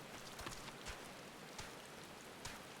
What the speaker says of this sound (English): Rain in HD.